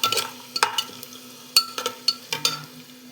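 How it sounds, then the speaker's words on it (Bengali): Onions browning in a hot pan give a soft sizzle under sharp, irregular scrapes and clicks of a spatula stirring them, close and fairly loud. "প্রথমে পেঁয়াজটা লাল করে নিচ্ছি।"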